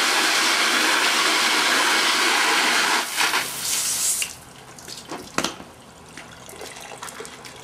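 Water pours steadily onto a silk screen to rinse it clean, a loud, dense spray for about three seconds that then cuts to quieter drips, splashes and small handling sounds nearby.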